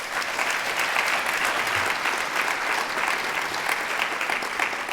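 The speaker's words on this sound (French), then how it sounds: "ils méritent aussi vos applaudissements" Sustained audience applause fills a university hall at a competition ceremony, dense, even clapping holding steady at full strength throughout with no voices on top.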